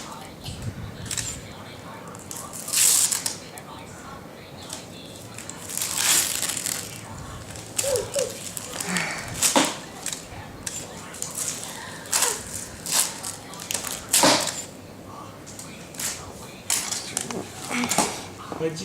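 A two-year-old at a birthday tears open presents wrapped in heavily taped paper, with ripping and crinkling bursts scattered irregularly through the scene while adults talk and cheer nearby.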